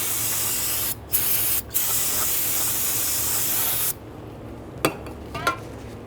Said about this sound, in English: go ahead and spray it down with a solvent.